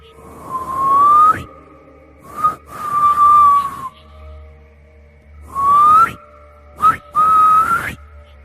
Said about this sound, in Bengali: মুখ দিয়ে অদ্ভুত এক শিসের শব্দ করতেই কুকুরটার দুই কান খাড়া হয়ে উঠল